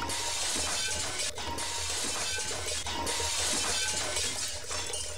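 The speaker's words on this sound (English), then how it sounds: "This time I hear the high-pitched noise of glass cracking" A glass tank in a game demo about falling into poison cracks and shatters, producing a loud, sustained wash of breaking glass with sharp clinks and brief bursts, no voices.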